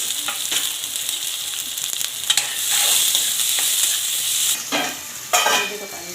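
Chopped onion frying in hot oil in a pan for a bitter gourd and peanut vegetable dish, a loud steady sizzle broken by spoon scrapes and stirring swishes, close up with no talking.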